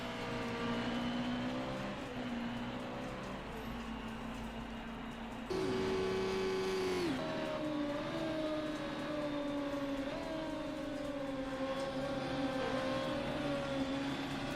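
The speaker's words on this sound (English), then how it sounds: "Jacob is now overtaking DJ Vixen for 7th position as Roast is in the pits" Racing car engines from a Formula-style video game race at Silverstone whine at high pitch, tones rising and shifting as cars pass and change gear, a dense layered drone with a louder surge midway.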